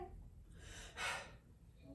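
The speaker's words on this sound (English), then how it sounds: "Take a breath." A deep breath is drawn during a chest examination, a single close inhalation that swells and then peaks in a sharp gasp-like rush of air, with quiet around it.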